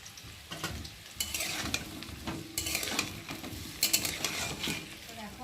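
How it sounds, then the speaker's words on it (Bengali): Potato pieces frying in a pan with oil, a close sizzle broken by repeated scraping and clattering strokes of a spatula stirring them. "আর এখন এই যে আলুগুলোকে ভেজে নেব।"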